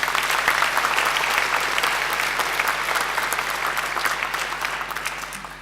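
A large crowd at a graduation ceremony claps continuously, a dense, loud, even wash of applause that slowly tapers toward the end.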